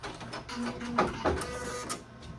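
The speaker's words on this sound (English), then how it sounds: "All you have to do is go in and make your machine trim" An embroidery machine whirs and clicks through a brief thread-trim cycle while stitching a grandma shirt, short close mechanical bursts with a couple of sharper snaps, no talking.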